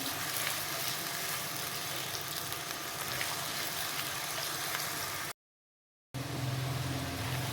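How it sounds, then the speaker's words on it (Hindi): Fried chicken pieces with two medium onions browning in a pan, a steady dense hiss of frying that cuts out briefly near the end before resuming, with no talking. "फ्राई हो चुका है चिकन और मैं अब कर दूँगी इसमें ऐड 2 प्याज मीडियम साइज़ के। प्याज को मैं ब्राउन कर लूँगी।"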